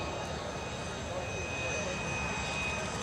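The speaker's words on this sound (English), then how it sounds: "Red Star aircraft landing left to right in front of us" A Red Star jet, a Czechoslovakian-built warbird, rolls in to land at EAA AirVenture 2024, its engine a steady, fairly distant roar and whine held evenly across the short moment.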